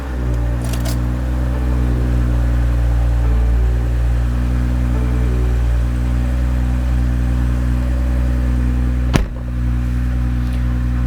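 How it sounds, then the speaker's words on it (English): A 2020-2024 BMW X3 (G01) engine idles steadily after an oil filter housing replacement, a constant even hum heard close with no talking and one brief click near the end. "Idling sounds all right."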